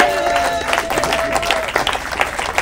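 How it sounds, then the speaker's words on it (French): Wedding silver jubilee guests applauding a trophy presentation, a close burst of crowd clapping with voices and music mixed in. "Acclamons pour lui."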